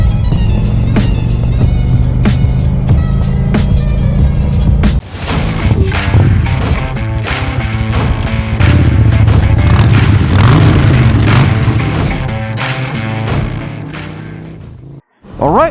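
A 2020 Indian Challenger motorcycle accelerates hard, its engine droning loudly and steadily with rising pitch through gear changes and wind rush, briefly dropping off near the end.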